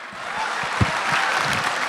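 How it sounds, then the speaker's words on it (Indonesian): A stand-up comedy audience at Balai Sarbini bursts into dense, steady applause that fills the whole two seconds, with a brief louder thump near the middle and faint voices mixed into the crowd noise. "tepuk tangan buat Rame dan Rigen."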